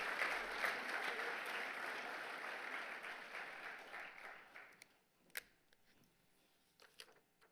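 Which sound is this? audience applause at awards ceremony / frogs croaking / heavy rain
audience applause at awards ceremony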